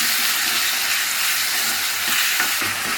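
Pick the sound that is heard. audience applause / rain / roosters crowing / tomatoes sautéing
tomatoes sautéing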